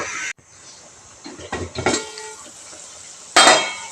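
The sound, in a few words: covering the cooking pot with its lid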